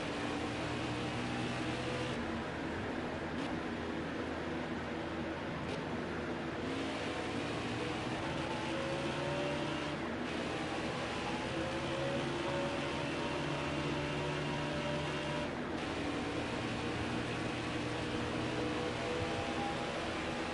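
A NASCAR race car engine drones steadily in NASCAR Heat 5, a continuous dense roar with slight pitch shifts as the throttle eases on and off, no voices over it.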